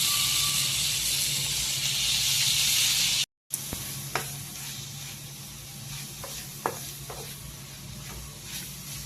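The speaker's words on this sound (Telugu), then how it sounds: "పేస్ట్ వేసుకున్నాక ఒక 5 నిమిషాలు బాగా ఫ్రై అవ్వాలి" Bitter gourd frying with a ground paste in a pan, a steady sizzle broken by a brief cut, then softer frying with scattered stirring clicks and scrapes.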